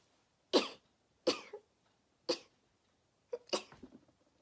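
Four or five short, sharp sneezes burst out at irregular intervals, the later ones coming in a quick double, with quiet gaps between.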